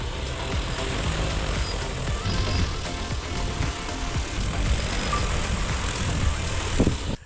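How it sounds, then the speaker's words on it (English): Agricultural spray drone flying over a cornfield, its rotors producing a broad, steady buzzing whir that stays fairly close, with rustling wind noise mixed in. "And here comes a drone now to do just that."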